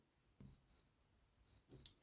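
A Casio ProTrek 240 wristwatch alarm sounds as two pairs of short, high electronic beeps, faint and close, with quiet gaps between the pairs.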